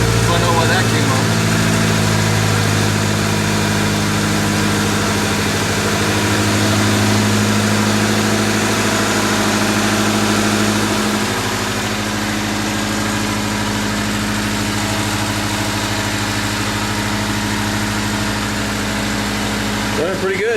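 A 1998 Honda Civic engine idling steadily in a garage after a rebuild, a continuous even rumble with a steady low hum throughout, close and loud, without any talking.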